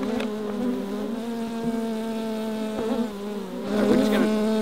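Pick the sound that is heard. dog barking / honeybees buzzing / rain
honeybees buzzing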